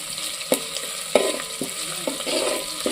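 Jackfruit curry with fresh curry leaves is stir-fried in a pan, giving a steady sizzle punctuated by several sharp spoon scrapes and knocks a beat or so apart, with no one speaking.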